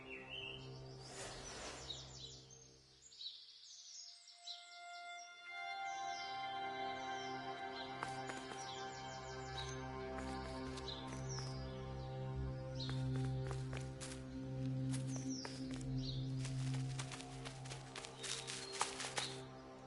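Birds chirping in the video game The Last Campfire on PS4: many overlapping tweets and whistles in a busy, continuous chorus over a steady tonal music bed, with a brief quiet gap early on.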